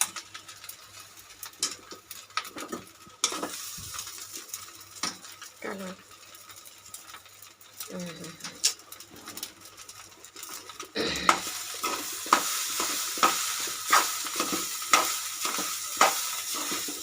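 Egg fried rice stir-fried in a pan with chopped spring onions, a quiet scraping and clinking at first, then a steady sizzle with sharp repeated spatula scrapes and taps in a regular rhythm.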